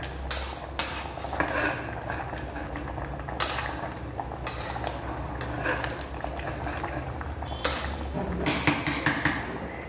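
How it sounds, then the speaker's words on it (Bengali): A pot of vegetable stew bubbles on the stove, a continuous low rumbling boil with hissing, broken by sharp metallic clinks of a utensil against the pot. "ব্যাস এটাকে আমি 5 মিনিটের জন্য ভালো মতন ফোটাবো।"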